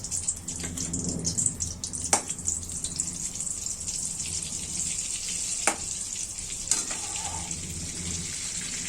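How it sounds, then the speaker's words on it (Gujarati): Butter melts into hot oil in a pan for a corn and capsicum curry, producing a steady soft sizzle with a few sharp clicks and pops. "તો આપણે તેલ ગરમ કરવા મૂકી દીધું છે. હવે અંદર બટર નાખીશું."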